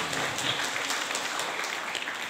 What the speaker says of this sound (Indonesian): Tepuk tangan dulu dong teman-teman semua buat saya.